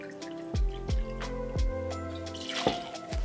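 Bourbon poured out for a pumpkin spice holiday cocktail, a close liquid stream with several glugging drips and splashes in an uneven rhythm, no talking.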